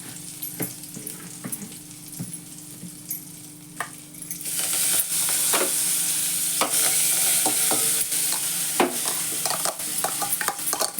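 Mashed potato filling with turmeric and salt sautéing in a pan, a steady soft sizzle with scraping stirring strokes that grows louder and denser midway and keeps going to the end.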